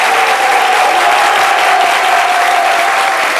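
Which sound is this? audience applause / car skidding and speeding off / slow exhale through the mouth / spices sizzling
audience applause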